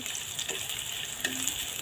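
Onions frying in hot oil in a wok, a steady close sizzle with a couple of faint utensil taps, no voices.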